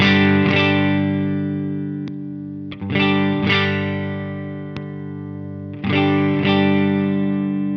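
An electric guitar through a JHS NOTADÜMBLË overdrive pedal rings out in three sustained, slowly decaying chords. A few sharp string clicks come between them.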